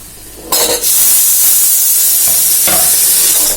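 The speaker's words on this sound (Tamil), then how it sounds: "இதெல்லாம் நாம சேர்த்து வதக்கிக்கலாம்" Mixed vegetables such as beans, okra, potato, carrot and drumstick sizzle loudly in a hot pan with a steady hiss, broken by a couple of scraping stirs.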